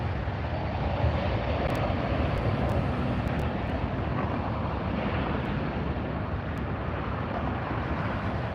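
Two airplanes departing a runway at LAX, a broad continuous jet roar holding steady and loud for the whole stretch, mixed with wind noise.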